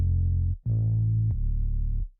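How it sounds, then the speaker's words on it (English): A trap bass with subtle distortion plays two sustained, heavy low notes separated by a brief gap, loud and alone with rich harmonics. "I'll like add a little bit of distortion just so that the bass and the kick drum have the same sort of harmonic characteristics"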